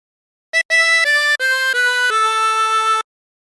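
A 20-hole tremolo harmonica plays a short Wellerman phrase alone: a brief quick note, then a string of steady, stepping reedy tones that stop cleanly.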